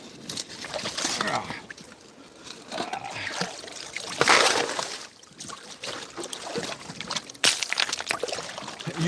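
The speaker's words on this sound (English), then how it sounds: "Couple more scoops into pan number 8." Gravel and water scooped into a gold pan during creek prospecting in Georgia, with uneven bursts of pouring, splashing and gritty rattles across the clip, close by and mixed with faint background sound.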